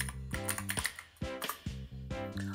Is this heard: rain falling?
no